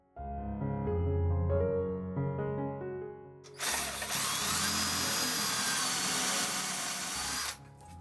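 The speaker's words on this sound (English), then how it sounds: "I drilled a small pilot hole up to the side of where it was broken" A power drill bores a small pilot hole into a solid oak bridge table beside a snapped screw. A short, loud, steady burst of whirring follows a quieter opening, then cuts off.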